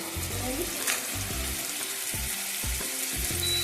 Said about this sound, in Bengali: একদম লো ফ্লেমে রেখে এটাকে ভাজতে হবে যাতে মশলাটা পুড়ে না যায়